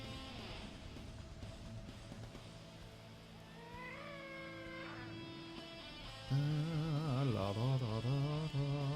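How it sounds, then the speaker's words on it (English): A cat meows several times, drawn-out tonal calls rising and falling, with a louder, more insistent meow near the end over a quiet indoor background. "I hear a cat."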